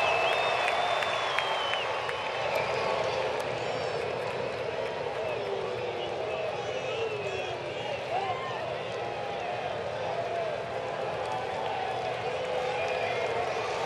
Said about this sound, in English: Big Saturday night crowd standing